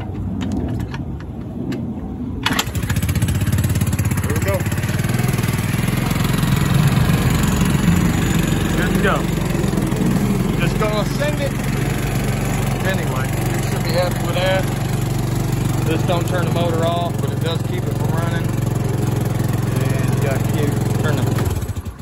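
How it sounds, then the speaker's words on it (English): A small motorbike with its AC CDI swapped for a 12-volt DC CDI is kickstarted; after a short quiet moment the engine catches and runs at a steady, loud, close idle for about twenty seconds, with faint voices in the background. "Kickstart it."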